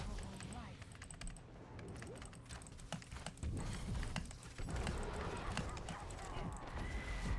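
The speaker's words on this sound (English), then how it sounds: "I have her riding an undead horse." An undead horse's hooves clip-clop in Heroes of the Storm, with quick rhythmic footfalls mixed among game effects and background clatter.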